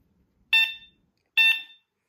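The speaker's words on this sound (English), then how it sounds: "Here is the horn." Two short, shrill electronic beeps from a Nakto City Runner electric bike horn sound close by, evenly spaced about a second apart, against silence.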